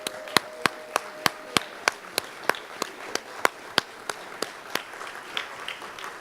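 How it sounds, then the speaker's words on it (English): Evenly spaced, sharp claps, about twenty over six seconds, rise from an audience at the opening remarks of a Hawaii small business event. The steady rhythm suggests slow, unified clapping rather than a dense ovation. "Let's rise and give them a big round of applause."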